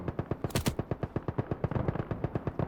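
Sherman tank gunfire in the video game Gates of Hell, a fast, steady rhythmic burst of automatic shots, roughly ten per second, with one louder blast early on, close and continuous.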